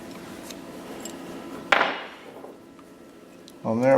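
A single sharp metallic tap of a small punch on a Ruger Mini 14 part held in a vise, close and crisp with a brief ring, followed by quiet handling and the onset of a voice.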